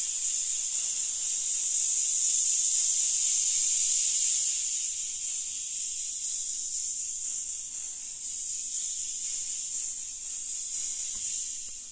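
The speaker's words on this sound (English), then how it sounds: "as I move it up, it gets a little more hissy" Hiss from a Bitwig Reverb device rises as the effect is turned up, a steady bright wash of noise with no other sound, holding loud and then easing slightly lower before fading at the end.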